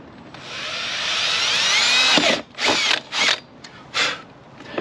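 A power drill whines steadily for about two seconds, then fires in several short bursts, close and loud, with no talking, while drilling holes for hardware during a window regulator install on a Tesla Model 3.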